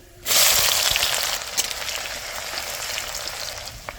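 Spices and chopped onion dropped into a hot pan of oil for biryani, bursting into a loud, steady sizzle that starts abruptly and holds close, slowly easing slightly over a few seconds.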